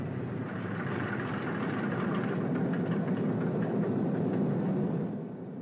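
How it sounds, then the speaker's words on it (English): A B-29 bomber's newly installed radial engine starting up and running, a steady dense roar that holds evenly throughout before easing slightly near the end, with no talk. "That's a new engine they just put in there. Maybe it's a little bit cranky."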